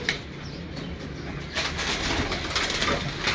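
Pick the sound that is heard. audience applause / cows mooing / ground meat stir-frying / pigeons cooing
pigeons cooing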